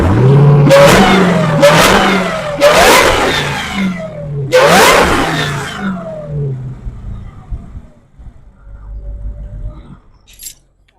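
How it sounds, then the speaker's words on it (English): A Dodge Hellcat's supercharged engine is blipped four times with strong intake noise, each sharp rev rising and falling back to idle, recorded up close, before settling into a low idle and quiet. "So give you some revs on the intake."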